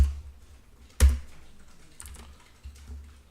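Computer keyboard shortcuts being pressed, a few sharp, close key clicks with a heavier thump and scattered lighter taps between quiet gaps, no talk.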